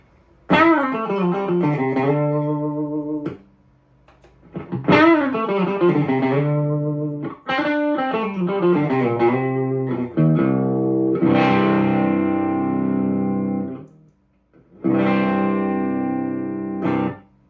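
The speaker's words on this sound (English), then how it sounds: "Clean, it kind of gives you a little bit of an overdriven sound." Electric guitar, a Sterling by Music Man Petrucci Majesty, with a light overdriven crunch from a JP150D boost plays several phrases of picked notes and chords, separated by short pauses, with some effect coloring the tone.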